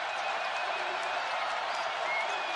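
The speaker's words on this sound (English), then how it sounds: "Crowd into it now." Basketball arena crowd during a BYU college game, a dense, steady wash of cheering and applause that fills the space without breaks.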